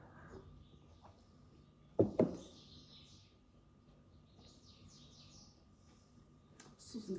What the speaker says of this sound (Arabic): صوت ديال العصافير الخوت